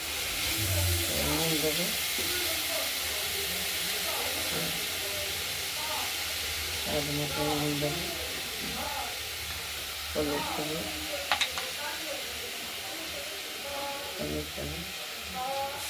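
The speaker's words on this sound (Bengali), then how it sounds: "তেলটা কড়াইতে আগেই গরম হয়ে গেছে। আমরা তার মধ্যে এটা শাকটা দিয়ে দিই।" Mustard flower greens with slit green chillies sizzle in hot oil in a wok, a steady broadband hiss running throughout beneath intermittent voiced talk.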